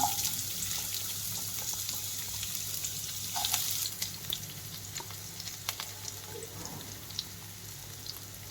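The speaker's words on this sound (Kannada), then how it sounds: "ಎಣ್ಣೆ ಕಾದಾದ ಮೇಲೆ ನಾನು ಈರುಳ್ಳಿ ಆ್ಯಡ್ ಮಾಡ್ತೀನಿ" Onions fry in hot rice oil with a steady close sizzle, broken by a few light clinks and scrapes from stirring, then fading slightly toward the end. No one talks.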